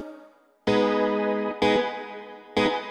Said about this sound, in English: Let's say I want to dial up some reverb and get rid of that. And I'm going to click here and I'll dial some in.